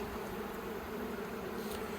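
Steady, dense buzzing of many honeybees inside a hive, a continuous low hum close by with no pauses.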